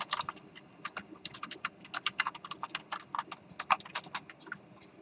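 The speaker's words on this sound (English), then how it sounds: "type 3 and then hit enter" Rapid typing on a computer keyboard during a C++ programming lecture, a steady run of close, crisp key clicks with irregular rhythm over a faint background hum, with no talking.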